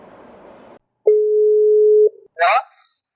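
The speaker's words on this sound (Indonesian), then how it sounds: "Coba gue telepon temen gue kali ya." A single steady telephone tone holds for about a second while calling a friend, after a stretch of muffled noise, followed by a short voice.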